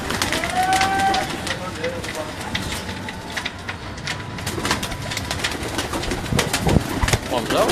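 Pigeons kept in a home loft in Gujranwala, coo among general bird activity, with people talking nearby throughout and occasional rustling.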